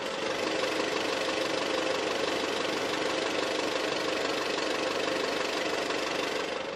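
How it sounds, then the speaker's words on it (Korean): A used car with 82,000 km idles steadily and smoothly at close range with the hood open, a constant quiet mid-pitched hum with a faint ticking texture throughout. "엔진 소리도 한번 들려드릴게요"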